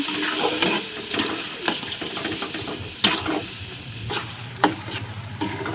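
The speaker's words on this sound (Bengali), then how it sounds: "এখানে আদা, রসুন, কাঁচা লঙ্কা, টমেটো দিয়ে দিলাম। তো মশলাটা ভালো করে কষিয়ে নেব।" Ginger, garlic, green chili and tomato masala for tarka dal sautés in oil, a loud close sizzle with repeated scraping stirs and a few sharp clacks of the spatula against the pan.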